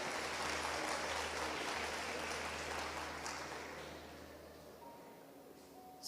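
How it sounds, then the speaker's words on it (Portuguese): A church congregation claps in praise, giving a soft, diffuse wash of applause that slowly fades over several seconds. "dando aplauso para Jesus aí"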